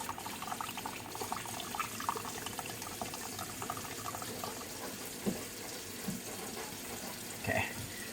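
Evaporated milk pours steadily from a 12-ounce can into pumpkin pie filling with a soft continuous trickle, a couple of clinks and bumps breaking through near the end.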